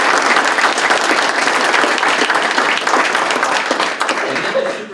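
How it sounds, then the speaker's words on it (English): Sustained applause from a seated audience at a county board of supervisors meeting, dense steady clapping filling the room at full strength throughout with no break. "So I'd like to first of all give all of you a round of applause."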